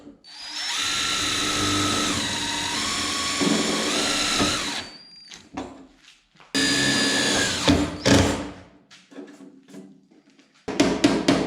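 A power drill drives screws while fixing a panel onto a rusty Volkswagen Transporter rear door during repair, with a long high whine, pauses and a second burst, then short clicks and mechanical rattles nearby.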